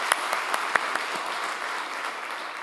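A church congregation at a Friday prayer service claps for newly baptized and confirmed young members, a steady wash of applause from many hands with several sharp, distinct claps standing out early on.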